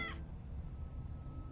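A cat meowing in the video game Tales of the Neon Sea, one short meow at the very start, then quiet low background ambience.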